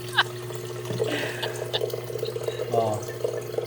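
Tap water running at a kitchen sink while ingredients for Filipino pancit canton are rinsed, a steady close stream with small splashes as someone talks over it.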